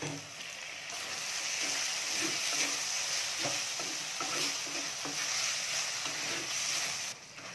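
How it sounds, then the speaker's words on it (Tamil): Tomatoes sautéing in a pan for snake gourd kootu: a steady, close sizzle with scraping stir strokes running throughout, no voices. "தக்காளி போட்டுக்கலாம்"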